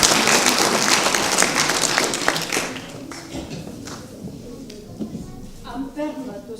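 Loud audience applause fills the first half at a Piedmontese poetry recital honoring a participant, then thins out under voices and scattered claps as talk resumes.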